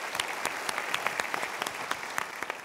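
An audience claps steadily and fairly quietly at a televised motivational talk show, brief sharp claps scattered through a continuous wash of applause, with no voices over it.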